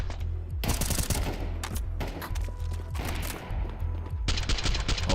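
Rapid rifle fire in Counter-Strike punches through a wall in several tight bursts, loud and close with brief gaps between volleys, set against a match's constant background ambience.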